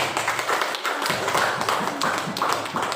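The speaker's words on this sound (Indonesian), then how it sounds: "beri tepuk tangan buat Faiz" A classroom of students claps for a classmate, a moderately loud, steady patter of many hands filling the few seconds.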